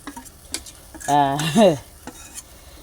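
Ground spice paste is added to a sizzling curry in a pan and stirred, giving a brief squeaky scrape of the spoon in the middle, over faint sizzling with soft scattered clinks.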